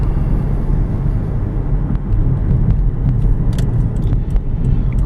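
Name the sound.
2010 Subaru Outback AWD wagon driving on back roads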